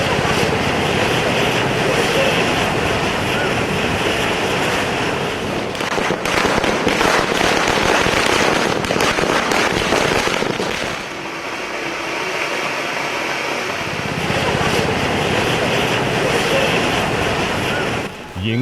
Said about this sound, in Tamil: விதவிதமான பட்டாசுகளை வெடித்து இனிதே கொண்டாடுகின்றனர் தீபாவளி பண்டிகையை